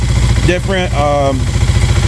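A Kawasaki KLX300 SM motorcycle fitted with an aftermarket exhaust and fuel controller idles rich, a loud, steady, close low-pitched engine throb. A person speaks over it.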